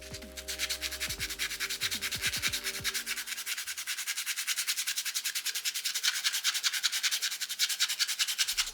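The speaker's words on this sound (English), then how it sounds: "We gotta do some sanding before we can start painting." Rapid, rhythmic back-and-forth sanding strokes rasp steadily and close by on a 3D-printed part, with faint tonal notes fading out in the first few seconds.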